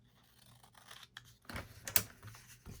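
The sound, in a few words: scissors snipping paper for junk journal card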